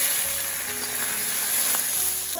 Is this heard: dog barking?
no